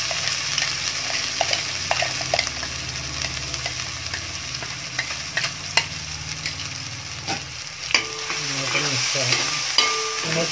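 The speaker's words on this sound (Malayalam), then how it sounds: "ചെറിയ ചൂടിൽ വെച്ചിട്ട് നമ്മളിപ്പോൾ ഒന്നുകൂടി ഒന്ന് വഴറ്റിയെടുക്കാം." Freshly ground masala for Goan fish curry sautés in a pan over low heat, giving a soft continuous sizzle with intermittent scraping and tapping stirring strokes, fairly quiet and close, without talk.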